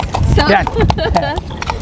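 A horse pulls a cart along Agriculture Road in Guyana, hooves clip-clopping in a steady close rhythm while people talk over it.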